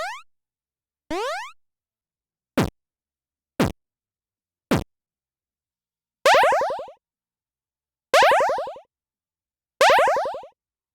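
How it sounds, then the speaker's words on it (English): Retro video game sound effects made with SFXR play one after another: a rising chirp, short zaps, three quick clicks, then three longer descending buzzy blips, each separated by silence. "so I decided to open up SFXR and create some sound effects."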